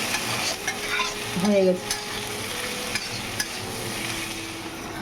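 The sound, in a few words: stirring and frying chickpeas and potatoes for ghugni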